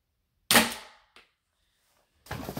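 A Colt Python airsoft revolver fires at a box: one sharp, loud crack with a short decaying tail, a faint small click after it, then another burst of noise near the end.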